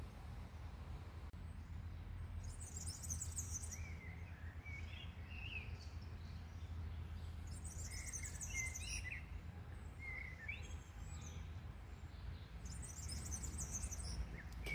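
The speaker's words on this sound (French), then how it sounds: "Quelqu'un pourrait peut-être me dire ce que c'est comme oiseau. J'ai jamais entendu." Unidentified wild bird singing outdoors on a pilgrimage trail, repeated short bursts of high chirping phrases every few seconds over a steady low rumble of distant traffic.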